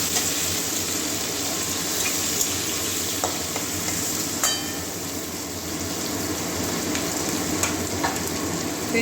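Ivy gourd (kundri) frying in a pan for a Bengali kundri-potato curry gives a continuous, even sizzle throughout, close and moderately loud, with a few faint clicks and stirring touches and no talking.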